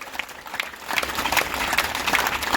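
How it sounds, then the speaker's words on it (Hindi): An indoor crowd at a Yoga Day celebration claps in a dense, crackling patter that swells after the first second and keeps going steadily. "खूब सारी तालियां बजाइए।"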